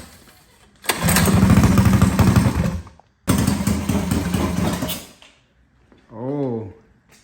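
A Predator 212 non-hemi racing engine built for 9,000 rpm fires on its first start and runs loudly for two seconds, cuts out briefly, runs again for two more, then stops before a short spoken remark.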